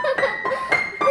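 Four short bright plinking bursts in quick succession, tinkly piano-like notes imitating small feet digging into sand, close and fairly loud.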